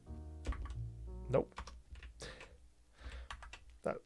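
Quiet clicking of computer keys pressed in short irregular bursts during a PC game session, with a low musical hum and faint background game sounds underneath.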